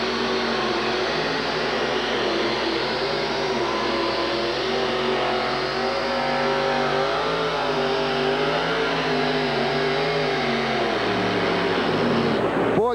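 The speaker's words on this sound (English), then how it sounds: "Gary just cannot get a hold of the track with all the horsepower for the Budweiser Avenger" A supercharged Budweiser Avenger monster truck engine roars loud and sustained through a wheelstand pull at a 1989 USHRA event in Minneapolis, holding a steady heavy drone before dropping off near the end.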